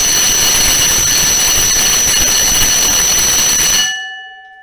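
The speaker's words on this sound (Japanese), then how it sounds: "発信機を押すと音が鳴って、復旧をかけると音が止まる" Automatic fire alarm bell set off by pressing a manual call point, ringing loud and continuous with a bright metallic tone, then cutting off abruptly near the end as the system is reset, leaving a faint fading ring.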